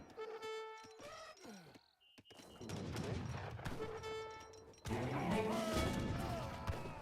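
Musketeers fire in a colonial-era strategy video game: a rapid volley of musket shots and crashing impacts mixed with in-game tones and effects, growing denser and louder toward the end.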